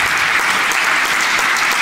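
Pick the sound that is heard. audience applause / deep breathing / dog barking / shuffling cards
audience applause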